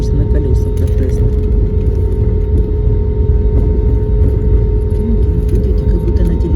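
An airliner taxiing on its wheels from Denver toward Fresno, heard from inside the cabin: a loud, steady low rumble with a constant engine hum, and a voice faintly present over it.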